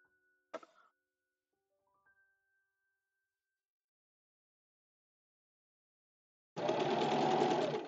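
A sewing machine stitches stretch velvet, starting up after a long stretch of near silence and running in a loud steady whir for about a second and a half, preceded by a brief thump and faint tones.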